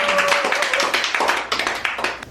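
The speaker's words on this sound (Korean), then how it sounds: "여러분 큰 박수 부탁드립니다." An audience at a school launch ceremony bursts into a short, dense round of close hand clapping that fades slightly toward the end.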